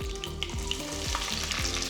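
Thinly sliced large onions hit hot oil with mustard seeds, giving a steady close sizzle with bursts of crackling and stirring scrapes, no voices.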